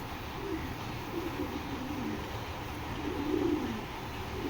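Racing pigeons coo in soft, low repeated burbles under a steady background rumble, with a slightly louder round of cooing toward the end.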